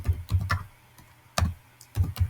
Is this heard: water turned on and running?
no